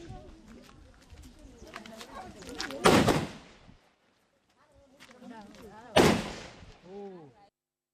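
Two sharp, loud bursts of firecrackers about three seconds apart, set off by tea estate workers in Bogawantalawa, Hatton, Sri Lanka, celebrating a wage increase, with people talking around them and a brief lull between.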